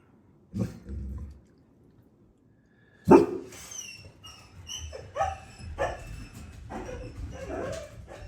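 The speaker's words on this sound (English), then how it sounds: "Stop barking." Dogs barking in bursts, several sharp barks and yips after a quiet pause, close by with some whimpering between.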